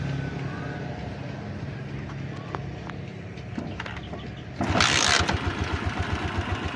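A motorcycle engine catches at once on a single kick after a valve seal replacement and settles into a steady, loud idle with a rapid rhythmic putter, after a stretch of quieter background noise.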